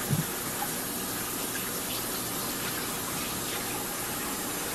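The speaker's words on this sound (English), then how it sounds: "You want to make sure it's enough water in there" Water gushes steadily from a tap into a pot of chicken leg quarters, a close, continuous filling hiss with a brief clunk at the start.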